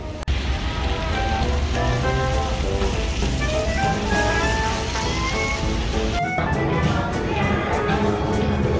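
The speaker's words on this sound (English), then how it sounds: "I am now going to walk down in the rain on Royal Street" Steady rain pours on Royal Street in the French Quarter of New Orleans, a dense constant hiss close by. Faint street sounds and a brief knock sit under the downpour.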